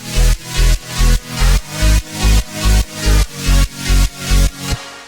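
Counter arpeggio synth in a dubstep remix, heard inside a loud mix dominated by a repeating pumping bass hit roughly twice per second, with bright synth layers pulsing in rhythm.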